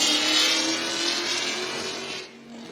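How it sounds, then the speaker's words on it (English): Car engines rev at Texas Motor Speedway, a sustained, raspy roar that holds steady and then drops off near the end, somewhat distant and with no voices. "The people love to come and rev their engines as they drive by over here."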